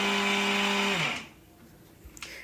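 A kitchen mixer grinder whirs loudly while grinding raw rice into puttu flour, a steady motor drone that winds down and stops about halfway through, followed by quieter clicks.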